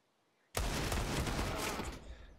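Gunfire in the video game Counter-Strike: Global Offensive during a professional Liquid versus NaVi match, a sudden loud burst of rapid shots erupting from silence and continuing densely for about a second and a half before tapering off.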